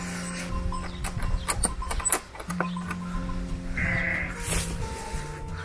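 Sheep bleat again and again on a rainy day at a Turkish village farm, loud nearby calls sounding one after another over rustling and small clatters.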